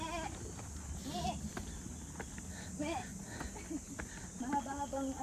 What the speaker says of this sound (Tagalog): Kambing o.